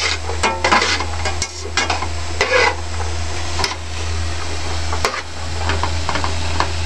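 Onions frying in a pan for Chinese fried rice, a low constant sizzle with a steady hum beneath and intermittent scraping and clinks of a utensil stirring against the pan.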